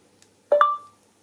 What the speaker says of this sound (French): il suffit d'appuyer sur ce bouton et de parler après le bip